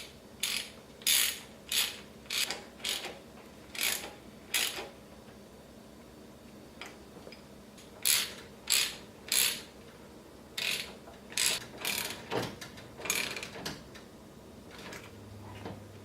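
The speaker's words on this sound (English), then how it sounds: "we're going to utilize our old clamps because we upgraded to the ratchet type versus the pinch clips" Ratchet-type hose clamps click as they are tightened on a Mishimoto radiator hose, giving close, crisp bursts of rapid ratcheting ticks in uneven groups separated by short pauses.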